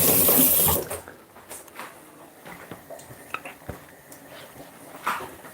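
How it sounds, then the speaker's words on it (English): Hands washed under a running kitchen tap while making Jamaican green seasoning: a loud gush of water at first, then softer splashing, dripping and rubbing close by, with no talk. "just gonna wash my hand off."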